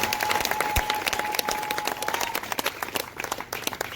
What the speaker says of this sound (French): Acclamez donc pour la vérité.